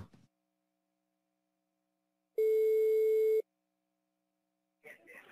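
A single loud, steady telephone tone lasting about a second while a call is being dialed, with a brief voice heard before it and another at the end.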